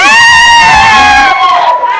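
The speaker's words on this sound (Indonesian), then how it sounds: "Wah, keren, tepuk tangan untuk Azril." Schoolchildren in a class cheer and shout together for a classmate named Azril, a loud sustained burst of high voices filling the room, tapering off slightly at the end.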